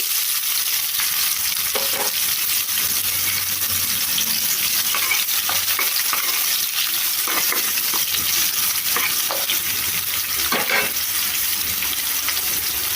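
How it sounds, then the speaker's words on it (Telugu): Thinly sliced onions frying in hot tempering oil for a bottle gourd curry, a loud continuous sizzle with scraping stirring strokes throughout and no talk. "ఇప్పుడు సన్నగా కట్ చేసిన ఉల్లిపాయ ముక్కలు వేస్తున్నాను"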